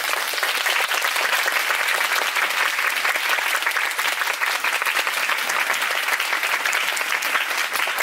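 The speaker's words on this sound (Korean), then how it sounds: "큰 박수로 부탁드리겠습니다." Loud, dense audience applause fills a theatre at a talk event following the musical 'Vanishing', with many hands clapping steadily and evenly for the whole stretch and no voices over it.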